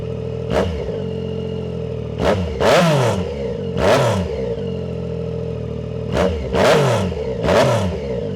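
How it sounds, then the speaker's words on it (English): A 2026 Yamaha R9 motorcycle fitted with a Dominator GP3 full-system exhaust, cat delete and no tune, barks through a series of sharp throttle blips and short revs, loud and close, with idle rumbling between bursts. "I think we are ready to start this thing up and see what it sounds like."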